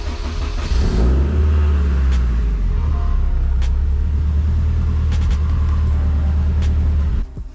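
A Honda Civic Type R being built with all-wheel drive fires up and settles into a loud, steady idle, a deep rumble that holds unbroken for several seconds before cutting off sharply.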